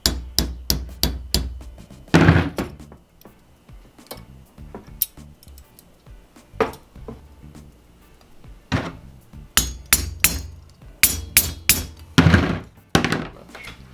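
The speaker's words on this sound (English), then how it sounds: "he's just using that flathead screwdriver to open it back up a little bit and retest it" Sharp metallic taps and clicks as a flathead screwdriver bends open a speargun shaft flopper, coming in irregular bursts of quick strikes separated by quiet pauses, close and distinct with no talk.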